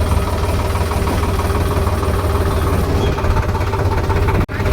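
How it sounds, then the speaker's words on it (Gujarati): A tractor pulled over to the roadside runs at idle, a loud, close, steady low engine chug with a rhythmic knocking pulse that continues unbroken until a brief dropout near the end. "નિરાતે જો આપણે ટ્રેક્ટર સાઈડમાં ઊભું રાખી દીધું ધીરે ધીરે."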